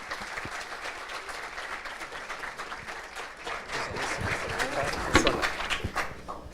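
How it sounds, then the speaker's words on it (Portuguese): A seated audience at a communication students' event gives a round of applause for the course coordinator, steady clapping building slightly louder toward the end. "Uma salva de palmas."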